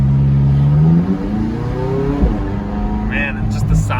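Tuned McLaren engine revving hard, its pitch sweeping up and then dropping through a downshift, loud and close, with excited voices talking over it toward the end.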